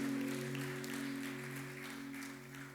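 Sustained applause from a church congregation, steady and fairly loud throughout, with a droning tone underneath and no talking.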